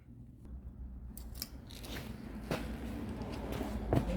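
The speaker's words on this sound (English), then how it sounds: "I'm just going to take my knife, kind of V them, cut that out" A knife slicing into a brittle, cracked old dashboard on a 1971 car, giving a few close, dry crunching cuts over a low steady background hum.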